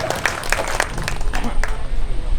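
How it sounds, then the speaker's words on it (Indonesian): Scattered clapping comes from a small crowd at a neighbourhood residents' meeting in Kelurahan Selamat, uneven and fairly close, with voices talking over it. "Tepuk tangan dulu Pak"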